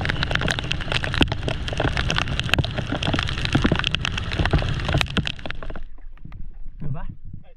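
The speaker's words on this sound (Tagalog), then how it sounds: "bumuhos na ang malakas na ulan" Heavy rain pours steadily in a dense broadband wash, with occasional knocks and voices underneath, then suddenly thins to quieter drips near the end.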